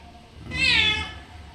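A single drawn-out cat meow, clear and fairly close, rising and then fading away over quiet background.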